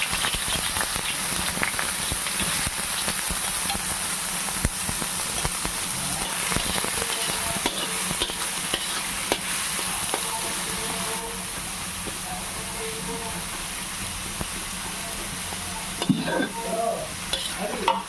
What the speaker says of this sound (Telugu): ఇది లైట్ బ్రౌనిష్ కలర్ రావాలి అప్పుడు దాకా మనం ఫ్రై చేద్దాం